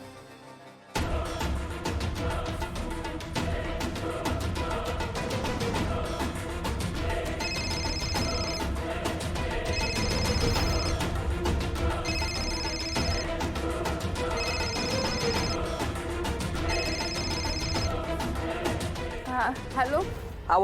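A telephone rings in a Marathi TV drama scene, giving five short, regular bursts of ringing over steady background music.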